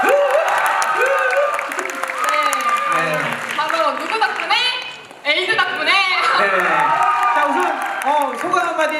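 A concert audience in Chungnam National University's Baekma Hall applauds and cheers for a K-pop group, with loud clapping, high whoops and excited shouting voices throughout, briefly dipping before surging back.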